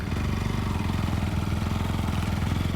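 A motorbike engine runs steadily with a throbbing mid-pitched rumble and light mechanical clatter, loud and close, carrying a rider and an elderly woman on a village road toward a forest.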